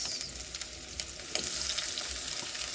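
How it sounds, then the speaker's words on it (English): Tomatoes dropped into a hot pot of beef stew, a steady soft sizzle with a few sharper crackles and stirring clatters, fairly quiet and close. "So after that, I go ahead and put the tomatoes."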